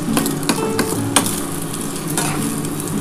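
A metal spatula chopping scrambled egg into small pieces in a frying pan, with sharp scraping taps at irregular intervals over a steady sizzle of frying.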